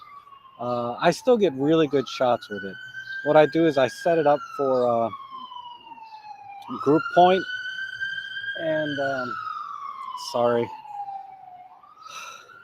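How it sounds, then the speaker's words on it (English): Ambulances and a fire truck pass through a noisy neighborhood, a steady, distant siren wail running beneath someone talking close to the mic. "I don't know if you can hear the ambulances now going by with the fire truck"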